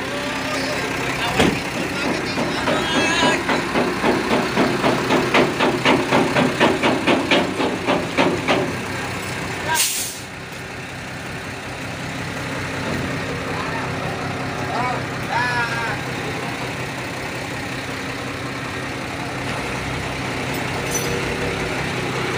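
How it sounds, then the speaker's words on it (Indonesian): A truck engine idles close by while the dump bed is lifted off the truck for replacement, with a rapid rhythmic knocking for several seconds, a sharp bang near the middle, then a steady rumble, with voices talking over it. "ini proses mengangkat bak truk untuk dipindahkan"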